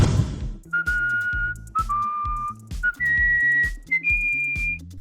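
A person whistles a slow melody of clear sustained notes stepping upward in pitch, alone over a faint background hum, close and fairly quiet.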